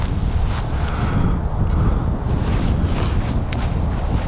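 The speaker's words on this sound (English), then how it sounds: "So this wind is killing me right now." Strong wind buffets the microphone outdoors on a disc golf field, a loud, continuous low rumble that drowns out everything else.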